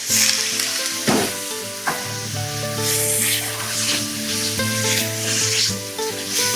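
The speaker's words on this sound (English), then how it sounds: "Gonna add just a little bit of wine here" Wine poured into a hot pan of rice stuffing filling for red onions sets off a loud, steady sizzle and fry that runs throughout, with a few sharper spatters and stirring scrapes.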